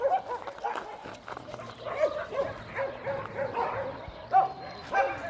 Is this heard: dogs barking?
yes